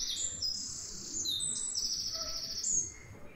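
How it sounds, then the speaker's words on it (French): A recording of a well-known bird's song plays back, with bright whistled chirps and trills standing above a steady low hum and background hiss, with no speech over it. "je vous passe par exemple un oiseau qui est bien connu"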